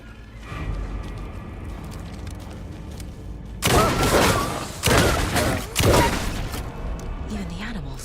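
Pistol shots in the Alan Wake video game, with several heavy bursts of gunfire standing out loud and close over a rumbling game background.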